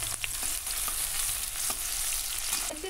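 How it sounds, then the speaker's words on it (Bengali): Chopped onion fries in very hot mustard oil, making a dense, continuous sizzle with faint scattered pops and light stirring, close and even, with no talking. "দিয়ে দিচ্ছি সর্ষের তেল। তেল খুব ভালো করে গরম করে নিয়েছি। দিয়ে দিচ্ছি অল্প একটু পেঁয়াজ কুচি"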